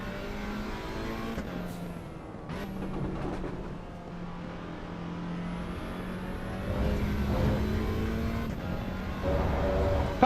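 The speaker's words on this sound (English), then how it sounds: "it's got some nice pops and rattles on the overrun" A race car on the Nordschleife in Assetto Corsa Evo drones with a steady engine tone, its overrun broken by sharp pops and crackles that grow louder near the end.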